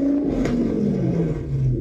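The V10 engine of an RV revs hard up close, a deep, steady drone whose pitch rises and falls through a short burst, with no talking over it.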